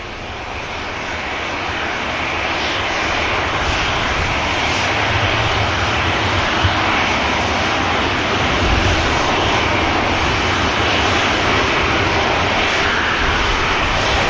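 A TUI airliner takes off at Manchester Airport, its jet engines building into a loud, steady roar that holds for many seconds with no voices.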